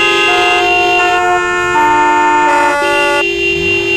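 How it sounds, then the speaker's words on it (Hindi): Car horns honk loudly on a busy highway crowded with vehicles, several overlapping sustained toots in shifting pitches following one another in close succession, with no pause between them. "सभी गाड़ी चलाने वाले जोर जोर से हॉर्न बजा रहे थे।"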